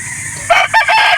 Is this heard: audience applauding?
no